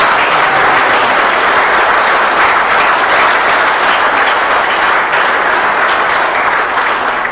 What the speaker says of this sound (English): Let's give the folks at Andretti and IndyCar a great round of applause.